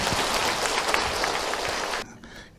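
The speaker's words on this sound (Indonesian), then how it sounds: "sekali tepuk tangan buat Abi ya" A congregation applauds a preacher at a Ramadan sermon on charity: dense, steady clapping fills the hall for about two seconds, then abruptly cuts off into near silence.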